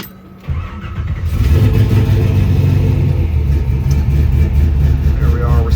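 A 1956 Chevrolet Bel Air with Dakota gauges cranks and catches, then settles into a loud, steady rumbling idle with a deep low-end throb, heard up close.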